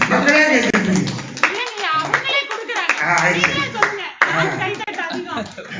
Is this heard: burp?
no